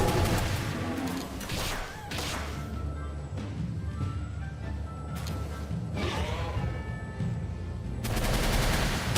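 Sustained gunfire in the Palworld video game crackles in rapid bursts for the whole stretch, loud and dense, with brief whooshes and crashes mixed in.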